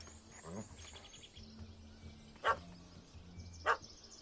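Dog barking in the video game The Witcher 3, two sharp barks about a second apart after a softer yelp, over low ambient game sounds.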